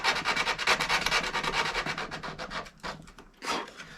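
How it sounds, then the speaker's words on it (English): Rhythmic back-and-forth rasping of sandpaper rubbed by hand over a wood baseboard, close up, quick strokes that slow and pause near the end. "I'm just going to take a piece of sandpaper, sand it out a little bit"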